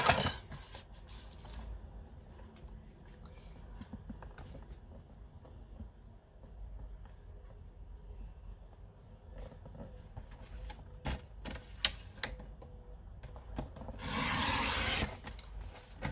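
A paper guillotine cutter trims a sheet of card, with faint scraping and handling noises leading up to one louder slicing swish near the end, all quiet and close.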